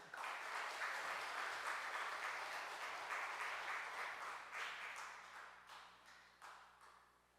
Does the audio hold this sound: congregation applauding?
yes